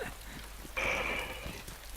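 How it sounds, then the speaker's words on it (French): Rain falls steadily in the video game DayZ, a soft hissing patter that holds at a low level, joined briefly by a faint higher tone partway through. "ça fait 10 heures qu'il pleut là"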